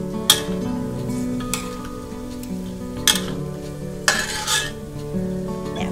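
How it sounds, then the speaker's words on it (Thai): Pork fat renders into lard in a pan while a spoon stirs through it, steady sizzling frying underneath with a few scraping, clinking strokes against the metal at intervals. "ช่วงจังหวะนี้เนี่ยเราจะต้องหมั่นคนนิดนึงนะคะเพราะว่าไม่งั้นเดี๋ยวตัวกากหมูมันจ"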